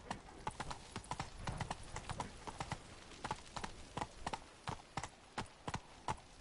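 Roach, Geralt's horse in The Witcher 3: Blood and Wine, trots along in crisp, evenly paced hoofbeats, close and clear over faint background ambience.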